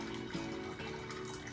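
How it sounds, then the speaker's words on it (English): Water drains and trickles steadily out of the trays of a Fluval canister aquarium filter that are packed with soaked sponges. The flow sounds close and continuous, with no talk over it. "So make sure you drain it out nice and good."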